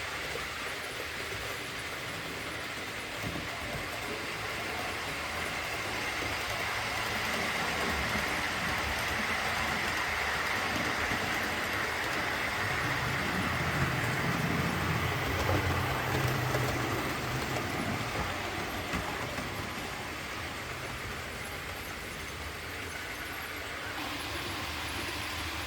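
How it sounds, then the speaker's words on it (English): Steady low rumble and hiss of small trains running continuously on track, a constant mechanical whir that swells slightly midway, with no talking. "There are now 3 full loops running around the top, each with the train on"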